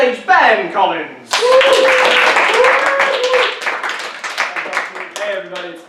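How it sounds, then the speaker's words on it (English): Comedy-club audience applause as a comedian returns to the stage at a pub comedy night: after a man's introduction, a burst of clapping swells, holds for a few seconds and thins out, with a voice talking over the end. "Thought there might be another smattering of applause"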